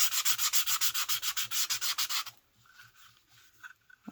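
A sanding block rubs back and forth over a sharp edge in quick, even strokes, about a dozen close rasping passes, then stops, leaving quiet room noise with a faint clink.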